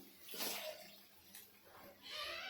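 Water splashes and pours in short bursts into a pan, faint and close, with a brief pause between pours, while making a fenugreek gram-flour dish.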